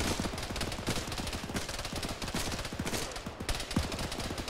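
Rapid automatic gunfire in a military shooter game, sustained loud bursts of machine-gun shots cracking in dense, fast rhythm throughout, close and dominant.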